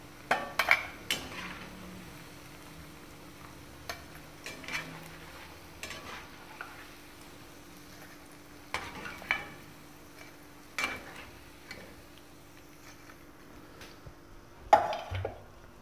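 Cauliflower frying for Gobi Manchurian gives a soft continuous sizzle in a pan, broken by scattered clinks and scrapes of a stirring utensil against the cookware, with no talk.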